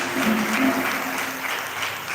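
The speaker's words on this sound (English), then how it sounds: "with a round of applause, let us welcome Dr. Mauli Lumo to the welcome address." A room full of people at a World Rivers Day ceremony in Ghana claps steadily, producing a dense wash of applause that fades slightly toward the end.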